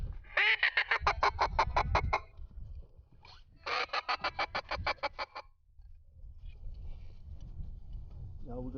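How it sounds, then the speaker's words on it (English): A flock of teal ducks over a Louisiana marsh: two loud, close runs of rapid, evenly spaced quacks separated by a pause, over a low rumble like a boat engine. "We got a flock of teal coming from the right side."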